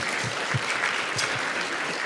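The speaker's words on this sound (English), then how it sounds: "we can clap for that one." Audience at a university talk clapping, a dense patter of many hands heard close and steady throughout, with a little speech underneath.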